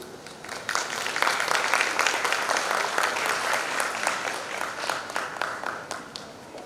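A school event audience, at a Model UN gathering, breaks into sustained applause, dense overlapping clapping filling the room at steady loudness throughout, with a few sharper individual claps standing out near the end.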